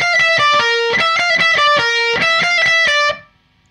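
Heavily distorted electric guitar plays the second bar of a riff, fast picked notes alternating with chugging muted low strikes and two held higher notes, loud and close before a quick fade.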